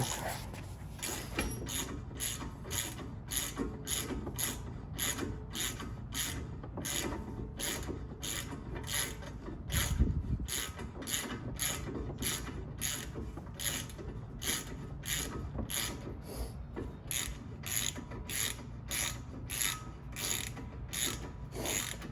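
Rapid, steady ratchet clicking runs continuously while the wheel bolts are tightened on a 2014 Maserati Ghibli Q4, close up and with no talking.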